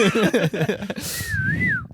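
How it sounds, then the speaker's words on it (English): After a burst of voices, a single drawn-out human whistle rises and dips in a wavering catcall, close and clear. "Yeah, there's whistling at you."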